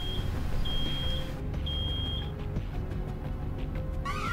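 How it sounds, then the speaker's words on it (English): An alarm in the video game Road 96 beeps in long high electronic tones, repeating with pauses over a low background hum, loud and close with no talk. "Something's beeping."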